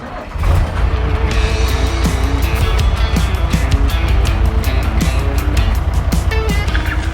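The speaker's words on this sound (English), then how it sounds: "Ladies and gentlemen, start those diesels" Diesel truck engines start up together with a steady, loud, low rumble that holds, nearby and alone.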